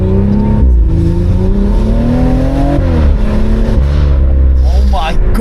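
A tuned old BMW's engine roars loudly and continuously under acceleration, its pitch rising and falling through gear changes, with people talking over it inside the car.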